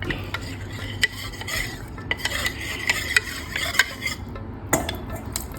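Arrowroot flour mixed with water being stirred in a pot, close up, with steady scraping swirls and sharp irregular clinks of the spoon against the pot's sides.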